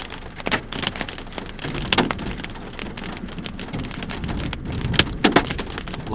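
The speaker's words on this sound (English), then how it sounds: "Obviously hail." Hail clatters steadily on surfaces nearby, a dense patter punctuated by sharper cracks of larger stones striking.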